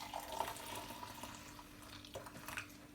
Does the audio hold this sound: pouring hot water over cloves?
yes